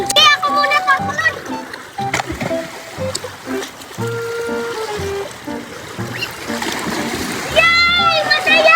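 Children jumping into the sea with splashes of water, amid excited kids' voices and talk, with music playing throughout.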